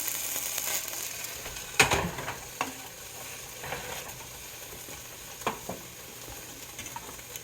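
Sausages fry in a hot pan with a steady crackling sizzle while they are turned, and a few sharp scrapes and clicks stand out. No one speaks.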